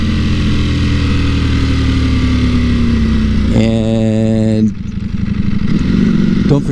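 2018 Ducati V4S motorcycle engine heard loud and close while riding, a steady droning roar that climbs through the revs, shifts, and pulls again.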